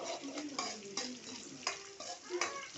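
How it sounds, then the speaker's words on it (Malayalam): Onion rice being stirred with turmeric powder in a pan, giving soft scraping strokes over a low, steady sizzle, with several distinct stirring scrapes spread across the moment. "മഞ്ഞൾപ്പൊടി ഇട്ടിട്ട് ഇളക്കി"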